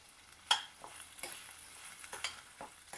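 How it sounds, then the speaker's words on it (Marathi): Diced potatoes sautéing in a pan for festive Maharashtrian masale bhat, with soft sizzling and several scraping stirs of a spoon at a steady pace, fairly quiet and close. "त्यानंतर घालूया बटाटा. चांगलं व्यवस्थित परतून घ्यायचं आहे."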